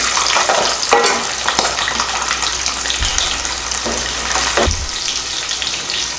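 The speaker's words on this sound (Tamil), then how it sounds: "வெங்காயம் பூண்டு வதங்கிடுச்சு" Onions and garlic with curry leaves and fenugreek sizzle loudly in hot oil, a dense constant frying hiss broken by a few scraping stirs of a spoon.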